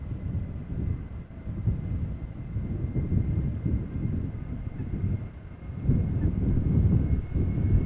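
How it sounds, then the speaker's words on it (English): A KLM Boeing 737-800, twenty-three years old, departs runway 36L at Amsterdam Schiphol for Bergen, its engines a steady low roar that swells again toward the end. "KLM flight 1189, Boeing 737-800, outbound to Bergen"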